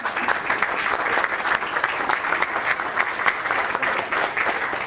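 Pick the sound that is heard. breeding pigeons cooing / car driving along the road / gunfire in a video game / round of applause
round of applause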